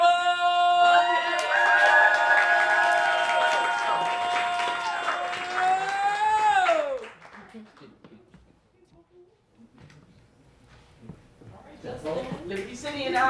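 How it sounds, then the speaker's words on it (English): A poetry slam crowd cheers and whoops loudly with broad noise beneath for about seven seconds, the sustained shouts sliding down before fading into a lull and a few scattered voices. "please give a warm round of applause for Justin Credible!"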